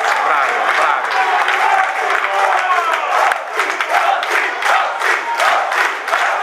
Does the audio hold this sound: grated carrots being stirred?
no